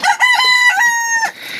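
A Brahma chicken, a very large breed, gives a close, loud, drawn-out harmonic call lasting just over a second, rising slightly and then breaking off, with no voices.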